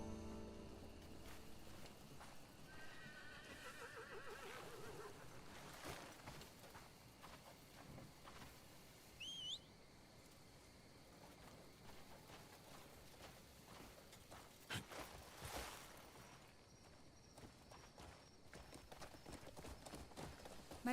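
A horse's hooves clip-clop in a quiet, faint scene, irregular hoof knocks scattered over a low background, with a brief high squeal midway and a few sharper thuds later on.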